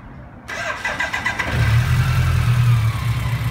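After a brief starter whir, a BMW motorcycle engine catches and settles into a steady, close, fairly loud idle with no talking over it.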